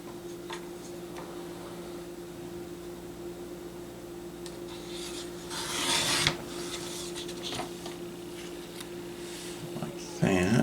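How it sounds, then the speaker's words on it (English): Paper booklet pages being trimmed to even edges, with soft scraping and rubbing strokes close by over a low steady hum, including one louder rasping pass midway. "Trim the edges so that they're even."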